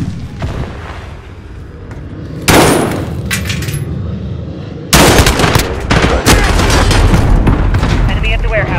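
Gunfire in Call of Duty: Modern Warfare team deathmatch, with loud broadband bursts of shots and rapid automatic fire breaking out in clusters, growing denser and sustained toward the end, over an underlying game soundscape.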